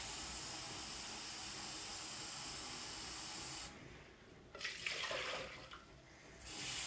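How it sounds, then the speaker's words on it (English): Water pours into a cooking pot, four cups measured out for boiling with eggs for natural dyeing, a steady broadband rush that drops away and returns in splashy bursts, close and fairly quiet with no talking. "Now I'm going to put 4 cups of water in this pot."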